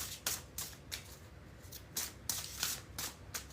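A Sacred Forest Oracle card deck is shuffled by hand in quick riffling bursts, about eight short papery flutters in an uneven rhythm, close and soft, with no talking.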